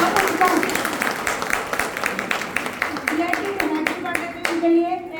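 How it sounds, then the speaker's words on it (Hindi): A seminar audience in Chandigarh claps loudly and steadily for several seconds, a dense patter of many hands with faint voices beneath. "उनके लिए एक बार जोरदार तालियां।"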